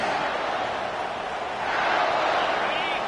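Broad roar of a stadium crowd at a football game near the end of the first quarter, steady and dense throughout with a slight swell in the second half.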